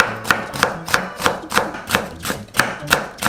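A knife chops green and red chili peppers on a cutting board in a quick, even rhythm of about nine sharp, close, crisp strikes, with no talking.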